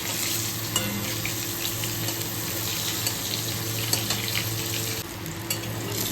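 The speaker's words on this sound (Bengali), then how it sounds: "দুটো বেগুন ভাজা হয়ে গেছে" Brinjal slices frying in a pan of oil, a steady dense sizzle that runs unbroken and fairly loud throughout, with no talk.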